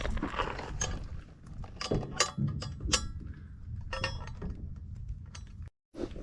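Nuts and bolts being tightened on an aluminum double motorcycle carrier: faint close ratcheting clicks and metallic clinks in irregular bursts over a low background hum.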